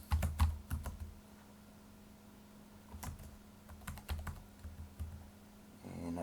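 Keystrokes on a computer keyboard tap out in irregular bursts as data goes into a spreadsheet, sharp and close with short pauses between runs of keys.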